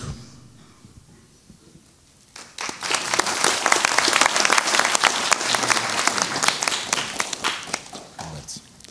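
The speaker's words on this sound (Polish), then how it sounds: "Brawa, proszę Państwa." Political campaign event audience breaking into sustained applause after a quiet opening, dense clapping swelling loud and steady for several seconds before tapering at the end.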